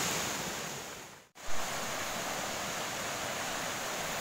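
Steady broadband rush of the Citeduh river flowing near a waterfall in Tasikmalaya, a continuous roar heard alone, with one brief dip partway through.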